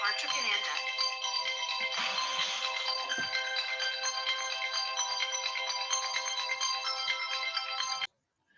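An electronic phone ringtone plays a bright repeating melody for about eight seconds, then cuts off abruptly, with faint background sound underneath.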